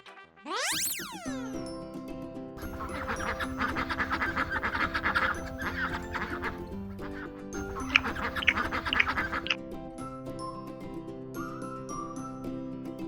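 Toy ducks quack and squeal in a children's doll play scene over a bright, melodic music bed, with whistle-like sweeps at the start and busy bursts in the middle.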